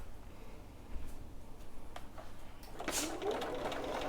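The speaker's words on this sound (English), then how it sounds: "stitch hard up against that cotton cording to lock it in place" A sewing machine runs in short bursts while stitching piping with cotton cording onto a bag panel, a close steady mechanical whir that rises and grows louder toward the end.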